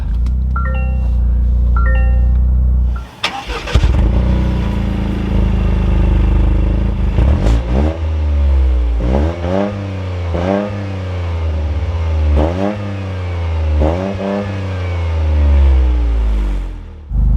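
A 2023 Toyota GR Corolla Circuit Edition with a manual clutch chimes, then the engine cranks and catches. It idles loudly and close, then runs through a series of sharp revs that climb and drop repeatedly.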